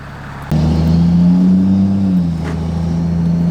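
A Ram 2500 pickup with a rebuilt 68RFE transmission roars to life and accelerates hard, a deep rising rumble that eases into a steady drone, loud and close.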